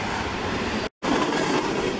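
A fast train thunders past at close range near Yale, British Columbia, a loud, dense, continuous roar of wheels and rail with one brief cutout.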